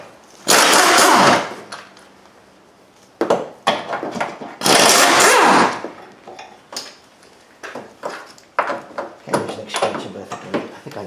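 A power tool, likely an impact gun, spins out 15mm engine mount bolts on a 2001 Ford Focus 2.0L SOHC, giving two loud bursts of rattling followed by quieter clinks and handling noises up close.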